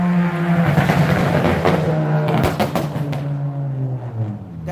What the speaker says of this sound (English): That's a car. You would swear that was a motorcycle.